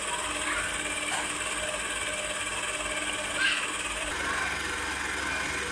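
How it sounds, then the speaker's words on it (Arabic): An electric mixer beats choux dough for chocolate éclairs, giving a steady, continuous motor whir that runs evenly through the whole stretch with no talking. "اضربوها بس في الميكسر كده علشان تطلع كل البخار بتاعها وكل السخونيه"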